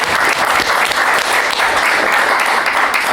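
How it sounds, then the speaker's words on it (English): An audience at a 2000 AD panel at the Thought Bubble 2018 comics festival gives a round of applause. The clapping is dense and even and stays loud and sustained throughout. "Give a round of applause"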